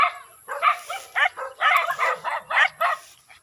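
Several dogs bark outdoors in a rapid run of short sharp yaps, fairly close and loud, with no talking over them.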